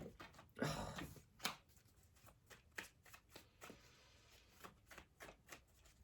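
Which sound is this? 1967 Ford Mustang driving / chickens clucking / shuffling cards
shuffling cards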